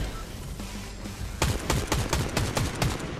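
Gunfire from an AI sniper in the video game TrailBlazer Lynx, a run of sharp, loud shots in quick succession after a stretch of muffled background noise.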